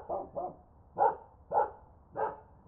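Barks from a single dog repeat in a regular run of about six short, punchy woofs, close and dry against a quiet background, positioned off to the left.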